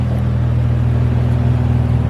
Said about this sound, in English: And low-key, the exhaust is way better. It sounds a lot better.